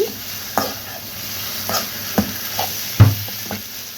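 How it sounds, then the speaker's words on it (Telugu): Prawn masala fries on medium flame for a prawn fry, with a soft steady sizzle broken by several spoon scrapes and stirs, the loudest near the end; no one speaks. "ఇట్లా మీడియం ఫ్లేమ్ మీద ఫ్రై చేసుకోవాలండి మసాలా కూడా అప్పుడు వేగి బాగుంటుంది"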